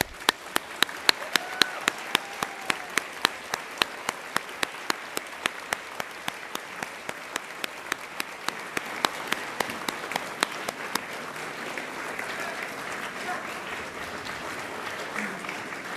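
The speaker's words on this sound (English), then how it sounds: "Let's thank them with some applause." Sustained applause fills a graduation ceremony hall as graduates clap for their families, dense and steady with a few sharper claps standing out early, gradually thinning toward the end.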